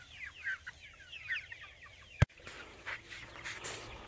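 Farm chickens cluck and chatter softly in a steady, scattered stream, with one sudden loud knock partway through, all fairly close and without talk.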